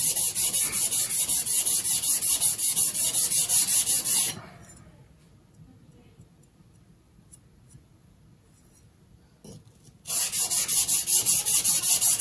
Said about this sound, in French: J'essaye de passer ma lame sur toute la pierre.